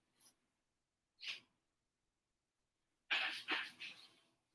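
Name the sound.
sneeze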